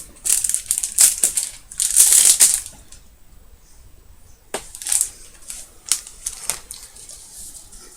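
AliExpress package being opened by hand, with close bursts of crinkling plastic and tearing wrapping, separated by quiet pauses.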